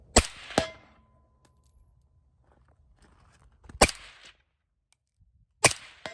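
Three loud, sharp rifle shots from an unsuppressed short-barrel Galil Ace with a KNS piston, spaced a few seconds apart, each a sudden crack with a brief ringing tail and quiet outdoor pauses between.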